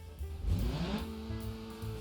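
A video game car engine in BeamNG.drive revs up and settles into a steady, throaty idle with the normal exhaust, a moderate exhaust rumble throughout.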